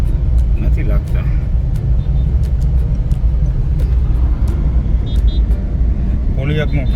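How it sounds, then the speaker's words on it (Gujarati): Road traffic passing at Koliyak, a constant low rumble of vehicles with scattered horn beeps and clatter, heard from a moving vehicle while people talk over it. "કોલિયાકમાં ટ્રાફિક દેખાયો ભાઈ રોડે."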